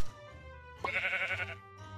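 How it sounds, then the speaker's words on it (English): A single Minecraft sheep bleat, a short wavering call lasting under a second, heard clearly over a quiet music bed. "Sheep."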